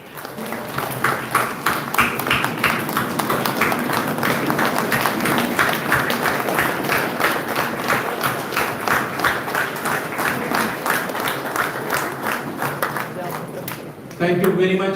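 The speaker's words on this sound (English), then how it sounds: "Can we really give them a very big applause?" An audience at the NSB Bangalore academic session inauguration ceremony breaks into sustained, dense applause that fills the hall for most of the stretch before cutting off, loud and close, with a voice emerging at the end.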